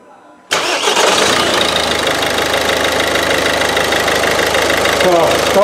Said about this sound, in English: Now I'm going to start the engine, to crank the engine and see.